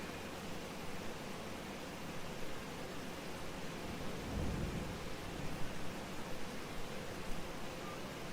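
Steady rain ambience from the video game Farming Simulator 25: an even, soft hiss that fills the whole stretch, with a brief low rumble near the middle and no voices.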